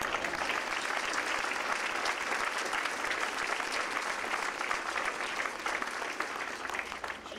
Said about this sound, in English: give our Master Sherwood a big round of applause